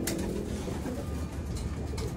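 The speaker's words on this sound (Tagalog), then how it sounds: "Siya lang yung isang ibon nandito sa labas" Pigeon in a breeder's loft giving soft, low cooing against a steady hum of background noise, close but faint and continuous for a couple of seconds.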